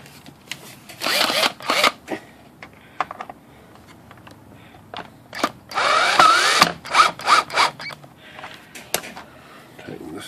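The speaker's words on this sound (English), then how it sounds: "use a drill bit here." A power drill whirs in several short bursts, biting and grinding into the plastic bottom case of an IBM Selectric III typewriter, with clicks and handling noises between runs, close up and without talking.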